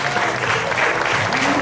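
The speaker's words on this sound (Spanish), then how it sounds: "Y bueno, voy a pedir un aplauso para Tony." Audience applause at a singing show, a loud, dense burst of clapping from a crowd filling a brief moment, with a voice faintly mixed in.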